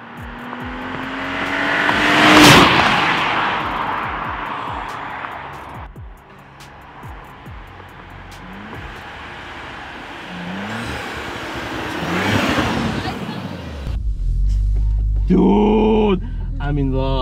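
A tuned Audi B9 S4 with Unitronic Stage 1+ at 454 hp roars as it accelerates hard, the exhaust note rising through the gears in long sweeping pulls, loud from inside the car, with excited voices talking over it near the end.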